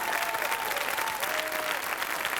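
Studio audience applause on a French television show, a dense steady wash of clapping filling the whole stretch at an even, fairly loud level, with a faint sustained tone running beneath it.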